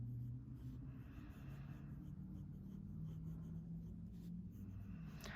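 Lamy Safari fountain pen with a left-hand black nib writing on paper with a light touch: soft, continuous close-up scratching of the nib gliding over the page, quiet and steady with no talk.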